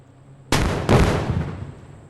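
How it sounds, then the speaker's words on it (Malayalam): Two sharp, loud blasts in quick succession, the second following about half a second after the first, with a rumbling tail, like firecrackers going off in the game Indian Bike Driving 3D. "നമ്മളിപ്പോൾ പടക്കം പൊട്ടിക്കുവാണ്."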